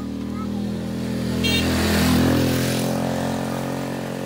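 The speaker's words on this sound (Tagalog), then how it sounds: "May motor po papunta doon." A motorcycle engine hums steadily at a distance in the Philippine countryside, swelling slightly as it passes midway before easing off again.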